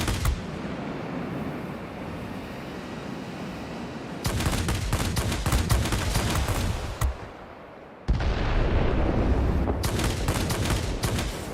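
Aircraft guns rattle in long continuous bursts during a dogfight in World of Warplanes, loud and dense over steady engine drone, with a short pause before firing resumes.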